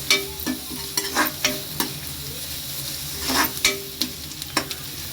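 Ginger garlic paste sautés with onion in a pan for a paneer gravy, giving a steady close sizzle broken by repeated scraping stirs of a spoon, with no talking.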